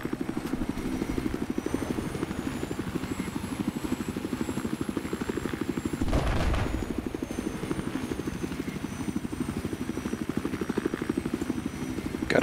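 A helicopter in a video game with a loud, steady rotor chop and a high turbine whine throughout, briefly surging midway.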